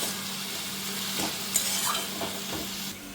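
Mixed punka and susni saag greens cook in a pan, giving a steady close sizzle with a few soft stirring scrapes over a constant low hum.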